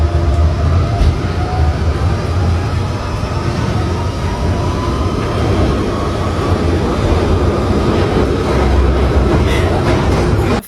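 Loud, steady rumble inside a moving metro subway train, with continuous rail noise and faint clicking from the tracks throughout, no voices.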